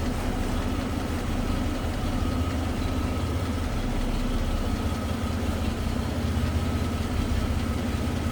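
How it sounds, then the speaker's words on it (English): The 230 inline six in a 1947 Dodge Power Wagon WM300 runs at a smooth, steady idle, a low, even engine rumble close by with no revving and no talk. "what a smooth running 230 inline six"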